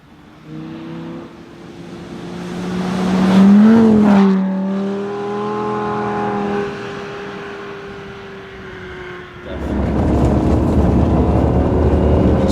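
A Lamborghini driving through a snowstorm in Summit County, Utah: the engine rises in a revving climb, falls back to a steady cruising drone, then swells into a louder, rougher roar near the end, close and continuous, with no talking.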